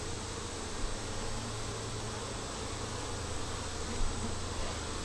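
Honey bees in a nucleus hive make a dense, constant buzzing drone close by, steady throughout with no talk.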